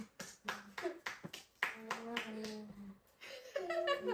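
Home hand clapping, a run of sharp, separate claps close by with uneven spacing, followed by voices talking and someone speaking over a few more hand sounds.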